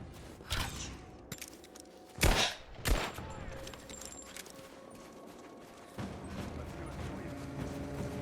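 Gunshots from Rise of the Tomb Raider as an air vent is fired at, two or three sharp loud cracks in quick succession, followed by quieter mechanical game ambience.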